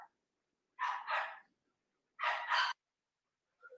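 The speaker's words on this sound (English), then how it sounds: "I'm sorry about the yapping dog back there." Small dog yapping in the distance, two quick double barks separated by a pause, faint and muffled indoors.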